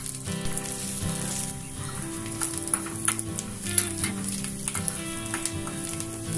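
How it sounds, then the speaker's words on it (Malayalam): Shallots, green chillies and curry leaves dropped into hot coconut oil with popped mustard seeds for a tomato curry, a loud steady crackling sizzle with sharp pops and spatters. "കടുക് പൊട്ടിയിട്ടുണ്ട് ഇതിലേക്ക് ചെറിയ ഉള്ളി ചെറുമുളക് കറിവേപ്പില ചേർത്ത്"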